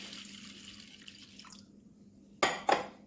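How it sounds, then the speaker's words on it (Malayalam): Water pours and splashes over lentils being soaked for masala vada, with two short, sharp splashy bursts near the end after a quiet stretch of faint drips and background hum. "ഇനി നമുക്ക് കുതിര ആവശ്യമായ വെള്ളം ഒഴിച്ചു കൊടുക്കാം"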